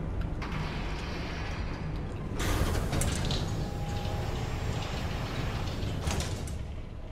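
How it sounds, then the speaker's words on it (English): A door being pulled shut in the video game Beyond Two Souls, heard as a sliding, mechanical rumble with a broad burst partway through, set against a steady game ambience. "you shut the door all the way."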